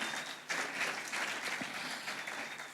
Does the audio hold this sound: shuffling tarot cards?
no